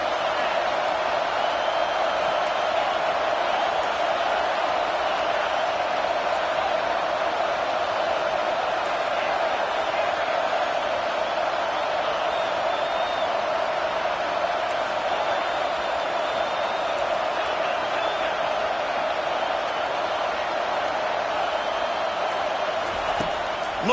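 Stadium crowd at an American football game during a third down, a steady, loud roar of many voices that stays constant throughout with no clear peaks, heard alone.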